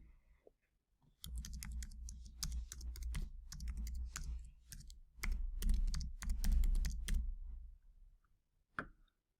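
Fingers type an email address on a computer keyboard in a rapid run of close, crisp key clicks, with a short pause before the bursts and one lone click near the end.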